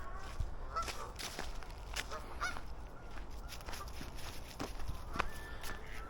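Geese honk repeatedly outdoors by a waterfront, scattered calls of varying loudness overlapping one another, some nearer and some farther off.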